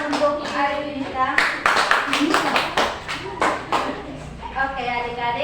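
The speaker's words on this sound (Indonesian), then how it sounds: "Berikan tepuk tangan untuk Arifina." A fifth-grade class gives a pupil a short burst of lively clapping. Talking comes before and after it, and the sound is close and fairly loud.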